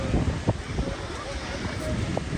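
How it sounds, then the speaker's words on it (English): A gust of wind on Galveston Island buffets the microphone with rough low rumbling bursts near the shore, with faint boat and water noise in the background. "had a big gust of wind"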